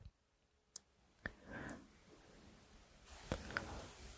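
A mouse click on a payment link in accounting software, heard as a single sharp, close click in near silence, followed by a few faint soft clicks and light handling noise.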